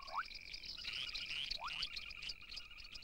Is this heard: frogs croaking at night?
yes